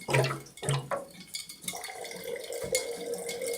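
Sugar is stirred into water in a jar for water kefir: close clinks of a spoon and swirling, splashing liquid, loud at first and then a softer, steady sloshing, with no voices.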